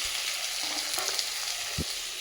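Fish frying in a pan at home for a Bengali meal, a steady close sizzle and crackle of hot oil with a brief knock partway through.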